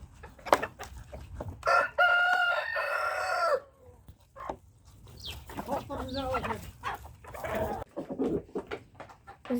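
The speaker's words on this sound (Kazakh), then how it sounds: "Біздің тауықтар жемдерін жеп жатыр." Farm chickens eating their feed call out with a loud crowing-like burst early on, followed by scattered clucks and clatter under intermittent talk.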